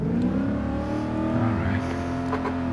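A BMW Z8 engine in Gran Turismo 7, droning loud and steady at close range with slowly shifting harmonic pitch, a continuous revving hum with no talking.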